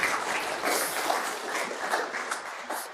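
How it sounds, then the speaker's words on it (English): Steady round of applause from a lunch-event audience, dense clapping at moderate volume throughout, with no voices over it. "Give him a round of applause if you don't mind."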